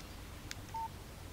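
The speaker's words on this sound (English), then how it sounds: "Text message from Barry." A brief single-tone beep of a phone text message alert in the video game Alan Wake, faint and short over quiet background hum.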